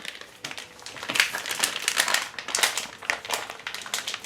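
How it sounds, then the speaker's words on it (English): Crinkly plastic rustles and crackles up close as a bag of grapes from a Winexpert Eclipse Shiraz wine kit is handled and cut open, with irregular bursts of crumpling and no speech. "the next step is you're going to cut your bag of grapes"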